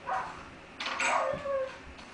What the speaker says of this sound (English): Is that my dog drowning?